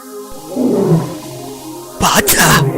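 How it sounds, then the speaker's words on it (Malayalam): In a Malayalam comedy cartoon, a tiger lets out a deep, rumbling roar, followed by a harsher, louder burst near the end, with voices mixed in. "എന്താ ഒരു അലർച്ച? പുലി വരുന്നുണ്ടെന്ന് തോന്നുന്നു."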